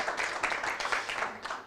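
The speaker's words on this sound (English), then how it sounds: "feel free to give our performers a round of applause" An audience at a climate adaptation policy talk applauding performers, a brief, dense patter of clapping from a crowd, fairly soft and steady.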